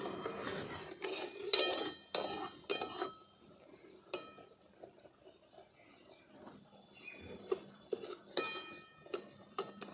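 Metal pot lid and utensils clink while small river chela fish simmer for a mashed bati chorchori, with a dense burst of sharp, close clatter early on, then sparse scattered clinks over a quiet, faint kitchen background with no talking.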